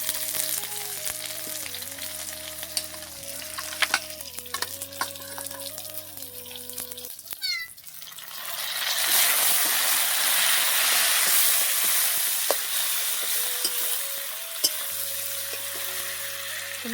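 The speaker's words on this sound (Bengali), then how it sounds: "তো মাংসটা পেঁয়াজটা একটু ভাজা ভাজা করে নিই।" Meat frying in a pan with onion and garlic, a steady sizzle under a near-constant electronic music bed, swelling into a loud, broad hiss and crackle partway through as the food is stirred.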